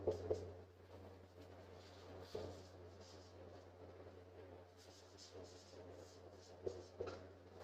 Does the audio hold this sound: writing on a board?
yes